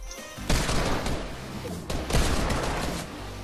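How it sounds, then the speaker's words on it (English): Fortnite gunfire, with two sharp, loud bursts about a second and a half apart, each trailing off into a rattling decay. "He just shot once and got me in the head."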